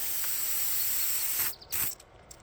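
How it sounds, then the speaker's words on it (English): Water sprays steadily from a loose, leaking fitting on a freshwater tank, a constant hissing spray that cuts out abruptly near the end, leaving short bursts of sputtering. "Dripping a little still, but not squirting all over like it just was"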